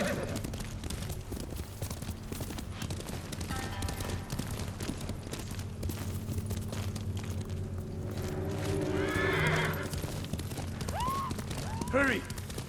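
Galloping horse hoofbeats from Ghost of Tsushima keep a steady, fairly close rhythm beneath tonal game sound, and a short whinny rises near the end.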